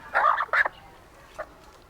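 A fighting rooster crows or calls in two loud bursts close together, then one short fainter call after a pause, with no talk.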